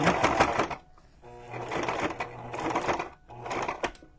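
A sewing machine back stitches across a junk journal cover in three quick bursts of rapid needle chatter, with short pauses between them.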